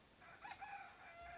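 A chicken in the farming sim game Clanfolk crows and clucks once, a short mid-pitched fowl call rising briefly over a steady game background.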